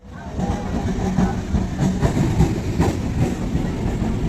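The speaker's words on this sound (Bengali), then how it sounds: "চলো, ট্রেন চলে এসছে, এবার যাওয়া যাক" A train arriving at a station in Bardhaman rumbles and clatters steadily nearby, with a metallic rattle of rail cars and a low mechanical drone throughout, with no one speaking.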